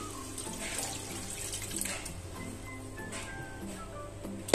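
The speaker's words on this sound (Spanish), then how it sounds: "es hora de echar los jugos" Cooking juices and broth poured into a caramelizing pan sauce, a steady close stream of running liquid lasting several seconds with faint background hum.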